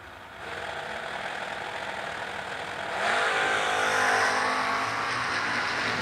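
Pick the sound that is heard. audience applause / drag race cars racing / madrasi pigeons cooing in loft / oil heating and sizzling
drag race cars racing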